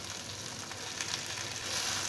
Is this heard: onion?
yes